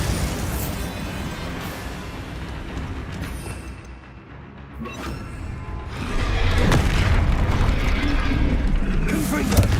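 Bombarda spell blasts in Hogwarts Legacy during a fight with a troll produce deep, rumbling booms, quieter in the middle and then swelling into a loud, sustained, crashing burst toward the end.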